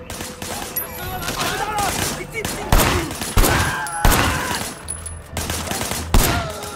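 Sharp gunshots ring out in Sleeping Dogs, a handful of loud cracks spaced a second or so apart over a busy game soundscape with shouting voices.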